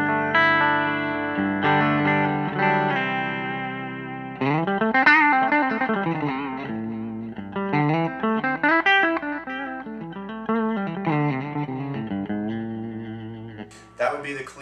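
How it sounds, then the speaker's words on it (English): An electric guitar is played through the clean channel of an East Amplification Club 18 amp, sustained chords and then melodic single-note runs ringing out loud and close, with no talking. "That would be the clean sound of the Club 18."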